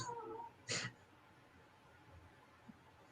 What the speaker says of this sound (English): whiny boy. That's our cat Murdoch.